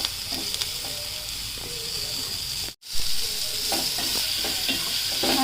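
Nalleru (veldt grape) stems fry in a pan with a loud continuous sizzle and scraping stirs, and the sound cuts out briefly midway before resuming.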